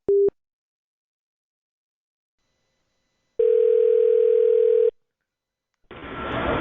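A telephone handset gives a brief electronic beep, then a steady dial tone holds for about a second and a half before cutting off, followed by a rush of line noise near the end; clear and close, no voices.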